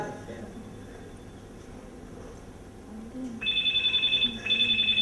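A telephone rings in two bursts of repeated electronic trills during a Konkani stage play. The rings start after a quieter stretch with faint murmur, sounding close and moderately loud.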